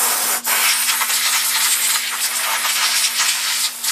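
Compressed air blasting to clean a polished aluminum motorcycle wheel casting from a GS1100E, a loud continuous close-up hiss with a brief dip near the start and a steady faint hum beneath.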